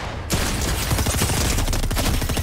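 Heavy shotgun fire in the Fortnite video game, a dense burst of loud gunfire and impacts that fills the whole short stretch, with no talk.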